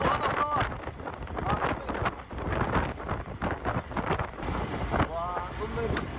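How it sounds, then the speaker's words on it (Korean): Strong wind buffets the microphone in a constant roar at sea on a fishing trip, with people talking loudly over it and a boat engine or water sloshing underneath. "바람이 장난이 아니에요. 바람 소리 좀 이해해 주세요."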